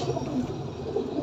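A pigeon coos softly, a few low rounded notes over about a second, faint and slightly distant against quiet background hum.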